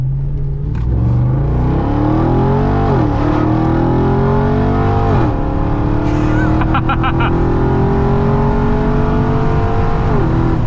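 A Ram TRX pickup truck's custom exhaust roars nearby, revving repeatedly with pitch climbing and dropping in several surges, loud and deep with no talking.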